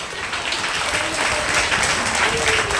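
An audience at the annual day of St. Bernadette Primary School in Mangalakkunru claps steadily and fairly loudly. The dense applause continues without a break for several seconds.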